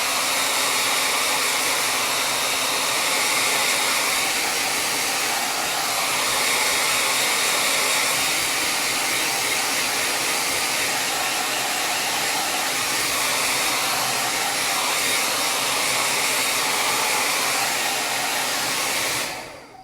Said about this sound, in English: So I'm going to grab the blow dryer.